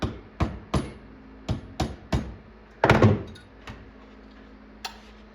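Heavy hammer blows strike bent sheet metal on a Space Firebird arcade cabinet during body work, about eight sharp, loud impacts in an uneven rhythm with a brief scraping clatter in the middle.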